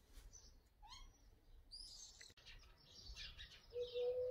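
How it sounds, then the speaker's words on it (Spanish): Birds sing and call in a garden, a mix of whistled notes and rapid chirps at moderate distance, layered over one another and continuing throughout with no voices. "Qué bonito se escucha hoy el canto de los pájaros"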